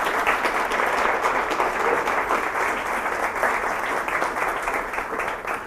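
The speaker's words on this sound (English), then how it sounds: "So let's give Andy a round of applause." A crowd applauds Andy at a University of Tennessee, Knoxville communication college event, with dense, steady clapping that holds at full strength from start to finish and no voices over it.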